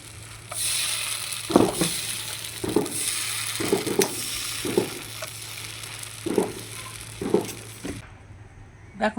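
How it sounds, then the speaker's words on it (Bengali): Chhita roti batter sizzling in a hot pan, a steady frying hiss with repeated soft bursts as batter is sprinkled in at a regular pace, close and moderately loud. "দেওয়ার সাথে সাথে কিন্তু রুটিটা সিদ্ধ হয়ে যাচ্ছে"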